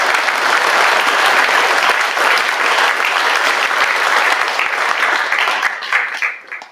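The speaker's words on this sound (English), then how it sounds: "So give a round of applause for those guys." A school audience at a high school athletic awards ceremony breaks into sustained, loud applause, dense clapping holding steady for several seconds before thinning out and fading at the end.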